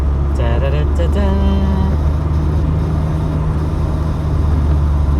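Interior of a moving Mk2 Vauxhall Cavalier car, a steady low engine and road rumble throughout, with a man briefly humming or talking early on over the drone.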